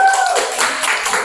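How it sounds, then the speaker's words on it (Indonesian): A class of students clapping hands together at the end of an Islamic jurisprudence lesson in an Indonesian school; a brief burst of close, loud clapping with a voice briefly present at the start. "Oke, boleh kita tepuk tangan untuk kita semua."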